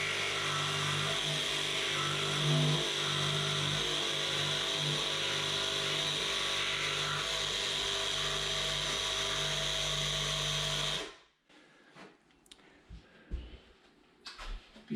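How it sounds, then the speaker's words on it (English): A jigsaw cuts a straight edge along a wooden epoxy countertop, giving a loud, steady buzzing whine that runs without a break for about eleven seconds, then stops and leaves quiet room noise with a few faint knocks. "So I've got my jigsaw set up here, and let's see what we can do about cutting a nice straight"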